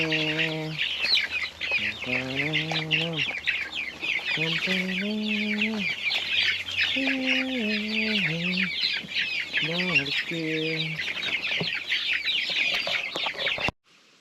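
Chickens being fed curd cluck continuously nearby, with repeated short, stepped calls over a dense background of chirping birds.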